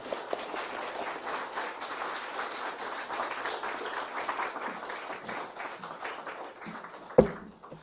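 Church audience applauding to welcome a visiting professor, steady sustained clapping from many hands across the room, ending with a single sharp knock.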